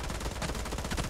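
Rapid automatic gunfire from a BGMI team deathmatch battle, a dense unbroken burst of shots lasting just over a second, loud and close.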